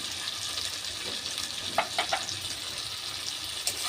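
Bhola fish curry spices, turmeric, salt and mustard paste frying in a pan make a steady, moderate sizzle, broken by a few quick stirring scrapes and clicks.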